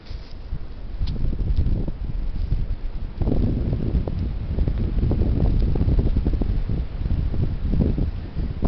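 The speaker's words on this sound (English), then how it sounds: "Hopefully I'll make it home without getting blown away by this heavy wind." Heavy wind buffets the microphone outdoors on a trail, a loud, continuous low roar that surges in gusts, strongest in the second half.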